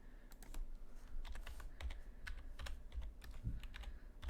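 Numbers being typed into a calculator on a computer keyboard: a steady run of quick, irregular key clicks, close and fairly quiet, with no voices.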